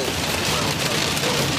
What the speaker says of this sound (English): Get out of the hail.